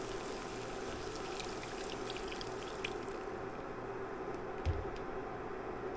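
A cup of water is poured for packet brown gravy in a home kitchen, giving a soft, steady stream that stays quiet and faint throughout, with no talking.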